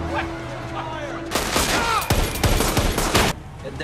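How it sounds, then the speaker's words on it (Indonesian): Rapid gunfire in a shootout between a gang and police in a Jason Statham sniper film, a dense volley of loud sharp shots over about two seconds, following a quieter passage with a faint voice. "kelompok Cheng yang masih baku tembak dengan para polisi"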